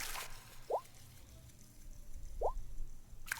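Droplet and splash percussion in a music beat: two isolated, crisp water-drop plinks with a rising pitch, spaced well apart over a quiet background, followed by a brief splashy hit at the end.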